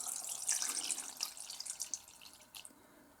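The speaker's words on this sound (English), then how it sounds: "you put it in a bowl like this, and then you put water" Water runs and splashes into a bowl to soak an ingredient for vegan miso soup, a faint, steady trickling pour lasting a few seconds with small splashy bursts and no talking.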